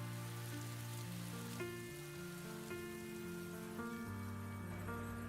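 Steady rain patters continuously beneath soft, sustained music in a K-drama scene, forming an even wash of sound throughout.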